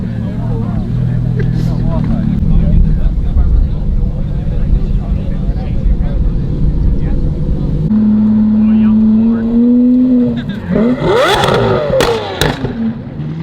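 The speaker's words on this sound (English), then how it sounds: "Supercar Shar in his blue Nila Lamborghini Aventador SVJ Roadster." A blue Lamborghini Aventador SVJ Roadster supercar arrives at a supercar rally, its engine droning loud and steady before a rising rev toward the end, with crowd voices and talk over it.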